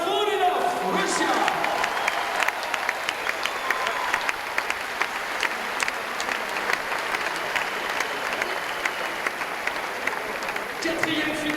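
At a bouldering world championship in Paris, a large indoor crowd applauds and cheers a Russian climber, steady sustained clapping across the whole stretch while an announcer's voice comes over it at the start.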